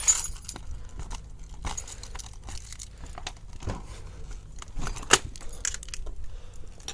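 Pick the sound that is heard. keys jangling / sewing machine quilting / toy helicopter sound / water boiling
keys jangling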